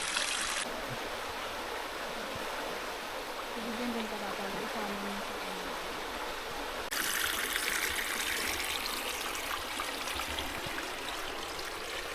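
A river stream flows steadily in the Philippine countryside, a continuous broadband wash of water that swells louder partway through, heard alone without talk.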